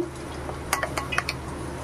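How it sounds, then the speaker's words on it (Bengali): A spoon clinks against a pan or bowl while tomato sauce, red chili powder and pepper powder are stirred together for chicken 65, a few light metallic taps in the middle of a quiet room tone. "এটাকে ভালো করে মিশিয়ে নেব।"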